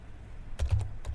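A short burst of several keystrokes on a computer keyboard, irregular close-up clicks with brief gaps in a quiet room.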